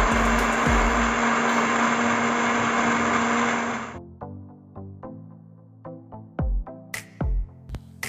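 An electric blender whirs loudly and steadily for about four seconds while blending grapes and milk, then cuts off, followed by scattered clinks, knocks and handling noises at close range.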